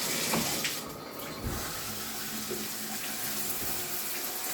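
Water from a shower runs steadily during a leak retest after a cheap shower upgrade, a continuous hiss close by with a few faint clunks and no talking.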